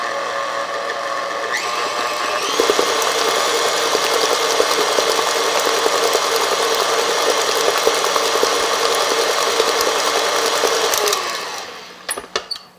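An electric mixer whirs steadily and loudly through sweet potato souffle batter with flour and baking soda, starting up after a moment, running with a busy rattling buzz, then cutting off near the end.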